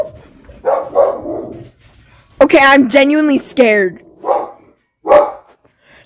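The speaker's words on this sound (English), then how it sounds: "There was a bang on the window and now my dog is barking." A dog barks several times, short sharp barks spaced apart, while a person speaks nervously in between.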